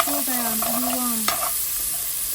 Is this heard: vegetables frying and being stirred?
yes